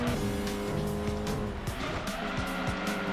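Viper GTS race car in a driving game, engine roaring steadily at high revs with gear shifts audible and tires squealing through corners, loud and continuous.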